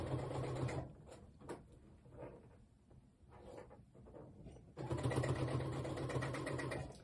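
Sewing machine stitching a seam on a poncho, running in fast rhythmic bursts, pausing briefly to back-tack with a few slower stitches, then resuming a steady close-up whir.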